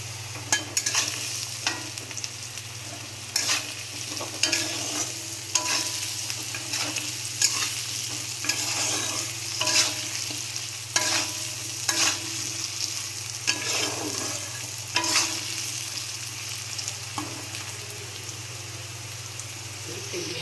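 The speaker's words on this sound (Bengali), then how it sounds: "এই যে দেখো আলুগুলো সব ভাজা ভাজা হয়ে গেছে" Potato pieces sizzle in hot oil in a pan with salt, for a fish curry, while a utensil stirs and scrapes through them in repeated clattering strokes over a constant background hum.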